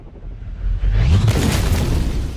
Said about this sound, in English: so the attackers throw a hand grenade